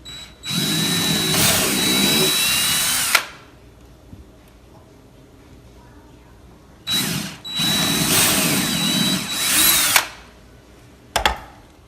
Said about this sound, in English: And always drill from the inside of the door to the outside.